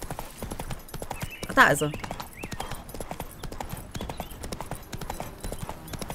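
Rhythmic clip-clop of horse hooves in The Witcher 3 runs steadily throughout, with a brief whinny near the start and someone speaking briefly in German over it.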